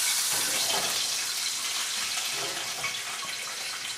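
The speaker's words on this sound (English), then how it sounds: "And I'll put a little water in here." Water poured into a cooking pan while stuffed calamari is prepared, a steady hissing rush that runs for the whole stretch, close and continuous with no talking.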